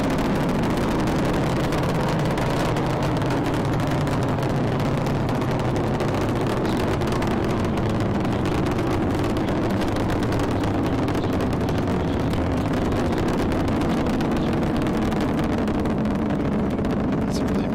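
The three engines of the Space Shuttle Discovery roar through a launch in a steady, dense, continuous rumble that stays loud and unbroken throughout, with no pauses or distinct events.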